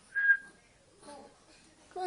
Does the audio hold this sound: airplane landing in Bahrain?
no